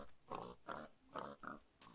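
Pigs oinking in the Forever Stranded video game, a run of four short grunting oinks in steady rhythm, close and clear with no talk over them.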